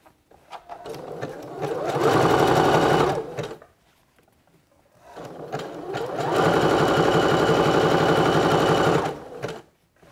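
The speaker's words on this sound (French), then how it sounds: "je vais coudre le deuxième passage de mon point zigzag envers du maillot vers le haut" A sewing machine runs in two long bursts, stitching a zigzag over elastic on a swimsuit, its motor whirring loudly and evenly close by with a short pause between runs.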